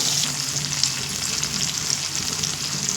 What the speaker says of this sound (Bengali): খুব সুন্দর করে তিন থেকে চার মিনিট একটু কষিয়ে নেব